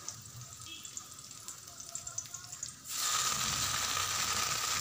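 Fresh lafa greens, leaves and tender stems, hit a pan and fry while being stirred. A quiet background of faint clinks gives way to a sudden, loud, steady sizzle that continues close by.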